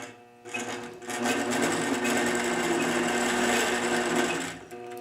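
A quilting machine stitches a quilt segment, its rapid, even needle hum starting after a short pause and running steadily up close before easing off at the end.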